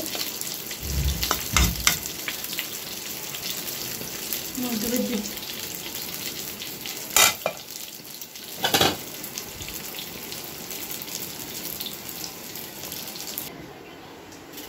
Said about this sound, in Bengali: এই যে এদিকে লাউ তরকারিটা রান্না করছি